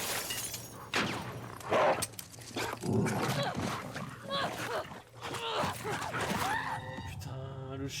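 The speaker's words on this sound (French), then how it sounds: "Putain, le chien, le clébard de merde" Dog barking in The Last of Us, a sharp close-range outburst amid gunfire, crashing and breaking glass in a tense combat scene, with a player's voice talking over parts of it.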